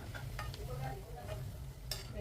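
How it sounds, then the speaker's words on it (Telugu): Bread pakoda made with carrot and coriander fries in hot oil. There is a soft, steady sizzle with a few light stirring clinks, quiet and close. "క్యారెట్, కొత్తిమీర అంత మంచిగా ఫ్రై అయిపోతుందండి."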